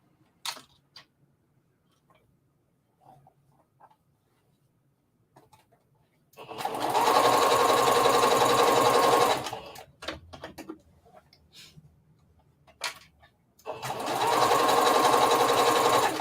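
A sewing machine stitches a circle dress in two loud, steady bursts of about three and six seconds, with quiet handling clicks and small taps between runs.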